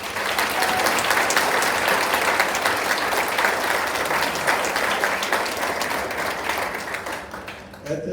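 A crowd at a Minnesota Republican governor candidate forum claps in sustained, dense applause for the candidates and a state senator, loud and even before thinning out near the end, with a voice briefly heard.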